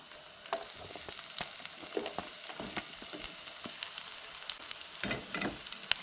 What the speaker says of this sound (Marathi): कांदो आमचो नाही हांगसर भाजून रेडी जालो